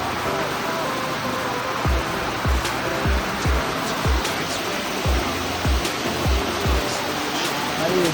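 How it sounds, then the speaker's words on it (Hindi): Rajagiri waterfall in Odisha rushing as a steady broadband roar close by, with a series of low thumping bumps like footsteps or handling knocks running through the middle. "अरे वाटरफॉल है"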